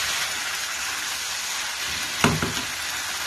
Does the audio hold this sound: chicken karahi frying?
yes